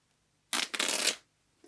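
An old shirt's fabric tears by hand in one rough, continuous rip lasting under a second, close and fairly quiet, followed by a faint brief rustle.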